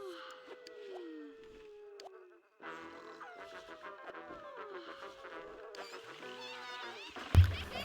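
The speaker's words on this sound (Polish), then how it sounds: "Te muchy w ogóle tak dziwnie lecą." Buzzing of flies drifting around a messy house in The Sims 1, thin wavering drones sliding in pitch, layered with other chirpy game sounds and ending in a sudden loud burst.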